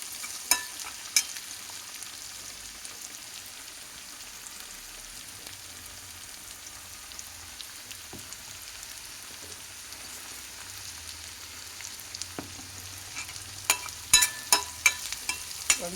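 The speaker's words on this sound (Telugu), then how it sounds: "మనం ఉల్లిపాయలు వేగనివ్వండి బాగా" Onions fry in a pan for an eggplant burji, giving a soft continuous sizzle with a few sharp spoon clinks and stirring scrapes, quiet and close, with no talking.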